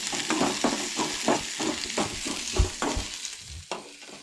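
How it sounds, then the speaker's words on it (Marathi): Onions fry in a pan for a Goan-style red cowpea and coconut curry, with a steady sizzle broken by rhythmic scraping stirs about twice a second, close and moderately loud. "कानो बरो तळसळून घेवंक जाय."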